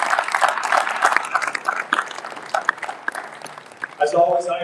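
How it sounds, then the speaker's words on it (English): An audience at a basketball awards ceremony breaks into clapping, a dense patter of many hands filling the room, with a voice talking near the end. "So a round of applause for everybody who organized it today."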